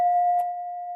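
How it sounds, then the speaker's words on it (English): A bell rings out with a single clear, sustained tone that hangs steady and resonant throughout, with a faint soft knock partway through while the ring continues unbroken. "this bell seemed to resonate"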